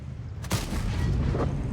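A single heavy tank-cannon shot fires at a light tank in an online tank battle game, a sharp loud boom that rolls into a long rumbling tail over a low engine drone.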